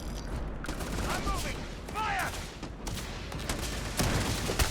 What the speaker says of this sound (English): I do not know how to shoot with that.